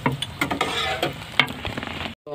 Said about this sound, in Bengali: চলো আমি একটু ভাজি